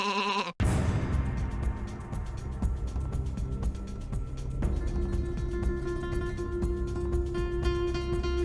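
Sheep in a Minecraft sheep farm packed with hundreds of sheep bleat in a dense, overlapping chorus. The sound is loud and continuous, with steady droning tones beneath and no talking.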